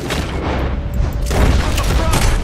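Heavy, booming gunfire and blasts in Red Dead Redemption 2 during a burning robbery shootout, loud and dense with overlapping shots.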